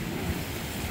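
Ocean surf roars continuously on a windy shore at Waisai in Raja Ampat, a broad wash of waves mixed with strong wind buffeting on the microphone, with no voices.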